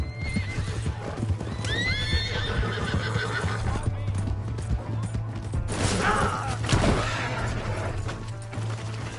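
A horse gallops in Red Dead Redemption 2 with rhythmic hoof clip-clops and whinnies over a low in-game drone, while characters shout to each other.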